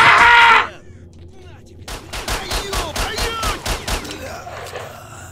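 Gunfire in the video game S.T.A.L.K.E.R. Shadow of Chernobyl: a loud burst at first, then after a pause a rapid run of sharp, evenly spaced shots, close and punchy.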